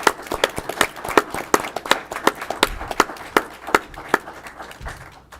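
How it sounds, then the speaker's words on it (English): Scattered applause at a county board of commissioners meeting congratulating a new tax director, a small group's individual claps popping out unevenly and briskly, then tapering off. "if you'll all congratulate her with a round of applause."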